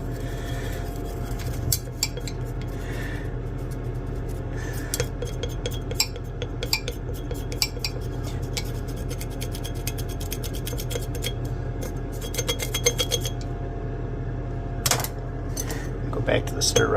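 A brush scrubs the bottom of a container on a lab bench used for wire refining, making scratchy rubbing and clinking taps in uneven bursts, with a voice talking at times.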